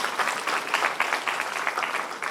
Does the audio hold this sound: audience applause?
yes